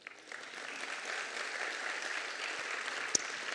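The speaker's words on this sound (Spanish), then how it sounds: "¿Lo quieren aplaudir? Sí, si quieren." Audience applause at a student induction session in a large hall, a steady, moderately distant wash of many hands clapping continuously throughout.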